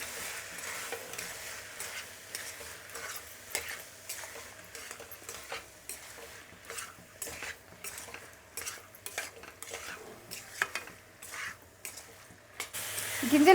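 Spices and seeds fry with turmeric and salt, giving a faint, close sizzle with frequent soft stirring scrapes and light clinks of a utensil against the pot.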